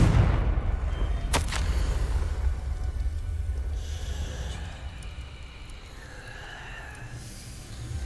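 Confringo blasting spell in Hogwarts Legacy: a sharp close crack early on, then rumbling, whooshing bursts and low booms trailing off over several seconds.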